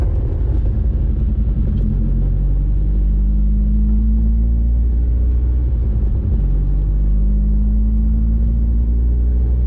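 Steady low engine rumble heard from inside a lowered VW Scirocco MK2 with an ABF engine conversion, continuous throughout with a slight rise in pitch suggesting gentle revving.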